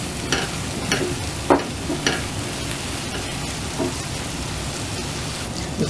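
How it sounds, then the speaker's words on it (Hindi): Fresh garlic and ginger paste cooking in a pan gives a dense, loud crackling sizzle, close by, with occasional spoon scrapes and taps from stirring, and no one speaking. "ये फ्रेश गार्लिक और जिंजर का पेस्ट बनाया है"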